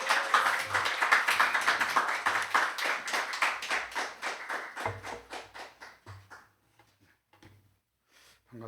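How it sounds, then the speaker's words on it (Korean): An audience at a church thanksgiving lecture bursts into warm applause to welcome the speaker, dense and lively at first, then thinning out and fading to scattered claps. "우리 큰 박수로 모시도록 하겠습니다"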